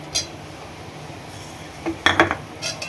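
A spoon scrapes and clinks against a pan while grated coconut and jaggery are stirred together, a few light metallic taps clustered near the end over quiet background, no talking.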